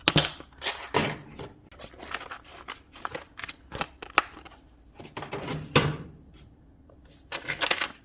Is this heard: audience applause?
no